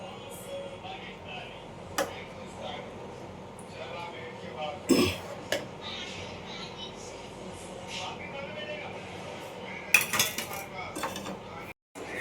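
Dishes and cutlery clatter as steamed dhokla is shifted into a serving bowl, with scattered metallic clinks and scrapes over a quiet kitchen background and a soft throat clear.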